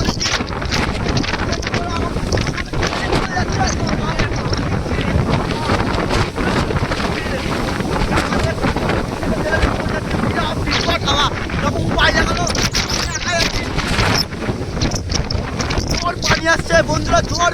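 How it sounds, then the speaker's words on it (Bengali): Strong gusting wind of a dust storm on a rooftop, a loud, continuous, close roar buffeting the microphone for the whole stretch, with a voice briefly audible beneath it. "এত ধুলো আর এত জোর ঝড় হচ্ছে"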